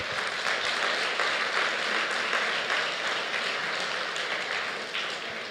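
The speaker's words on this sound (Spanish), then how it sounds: "una ofrenda de aplauso al Señor" Congregation in a church gives a sustained round of applause as an offering to the Lord, a dense, even wash of many hands clapping that fades slightly near the end.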